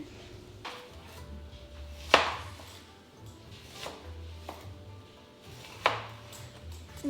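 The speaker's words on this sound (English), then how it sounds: "First, we're going to chop our onion." Onion chopped with a knife on a board in a kitchen, a few sparse sharp knocks spaced apart over a quiet low hum, close by with no talking.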